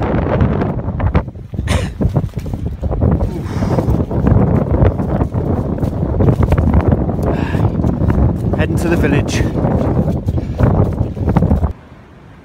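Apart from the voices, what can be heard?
very strong wind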